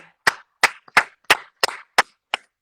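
Hands clap sharply seven times at an even, unhurried rhythm during an Instagram livestream, each clap crisp and close with silence between.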